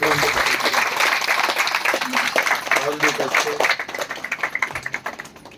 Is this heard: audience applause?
yes